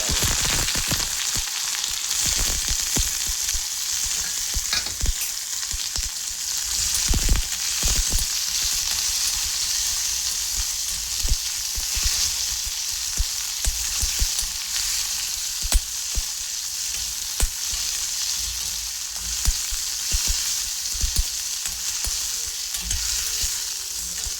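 Washed pirandai (adamant creeper) frying in hot oil for a chutney, a steady loud sizzle throughout with occasional stirring clatters against the pan, no voices.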